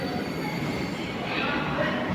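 Steady rumbling roar of the KSR Bengaluru Express passenger train rolling past, continuous and fairly loud, with faint metallic wheel noise in the mix.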